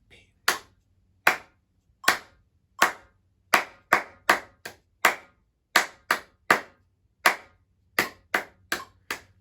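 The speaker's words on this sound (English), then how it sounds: "Now let's just clap it." Sharp hand claps ring out one at a time in a steady rhythm, about a dozen in all, close and crisp with brief silences between them.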